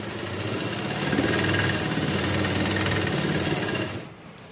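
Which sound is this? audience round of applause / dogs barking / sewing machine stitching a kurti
sewing machine stitching a kurti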